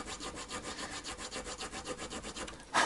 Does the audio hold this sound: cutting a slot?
yes